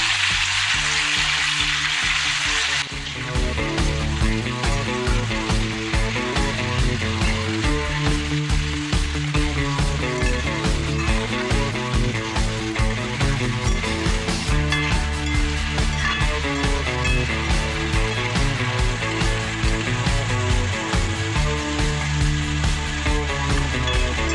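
Spicy chicken coated with ginger-garlic paste, salt and ground black pepper fries in a pan, giving a continuous, fairly loud sizzle with a regular, pulsing texture for the whole stretch, with no talking.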